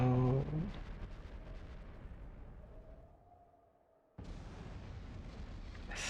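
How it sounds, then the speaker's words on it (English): An explosion in the video game The Legend of Heroes: Trails of Cold Steel: a dense, rumbling burst of game sound that slowly fades into near-quiet before a loud roar cuts back in abruptly, with no talking. "Don't know what caused it, by the looks of that explosion."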